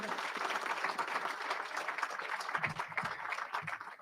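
Audience applause fills a graduation ceremony for a prisoner reentry program, a steady wash of clapping from a large crowd that holds level for the full few seconds with no voices over it.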